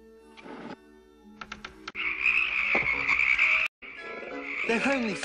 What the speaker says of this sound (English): They're only frogs, Ilonwy.